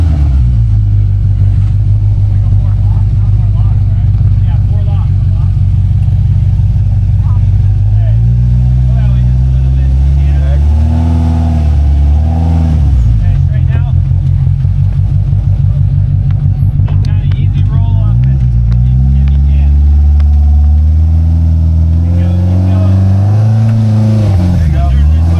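A UTV engine revs hard and strains while rock climbing, its loud growl rising and falling in long surges with shifting pitch as people talk and shout over it.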